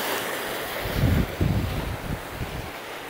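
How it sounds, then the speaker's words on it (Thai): Strong wind buffets the microphone over surf breaking on a seashore where sea kale grows, a steady roaring rush with heavier low gusts swelling in the middle; no voices. "ลมแรงแรง"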